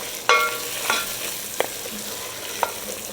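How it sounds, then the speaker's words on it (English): Celery cooking down in a pot for oyster chowder, a soft steady sizzle with a few sharp utensil clinks and stirring scrapes, close and fairly quiet, no talking. "we're gonna add our celery. Just want to cook that down for a couple minutes."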